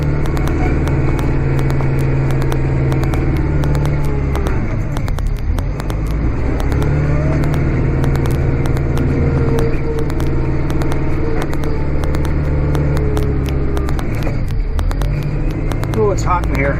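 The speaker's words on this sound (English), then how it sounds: "I'm going to let you listen to the tractor and all its noises" A tractor pushing snow runs steadily, its engine a loud, continuous low rumble and throb heard from inside the cab, with a couple of slow dips and swells as the load changes, plus scattered clicks and rattles.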